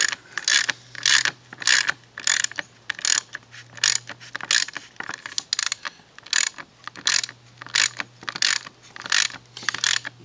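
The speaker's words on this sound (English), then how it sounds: "we torque the t nut sleeve and the t nut together" A ratchet wrench torques a T-nut sleeve and T-nut together during module alignment hardware installation, giving repeated bursts of close, crisp clicking in steady strokes with brief pauses between them.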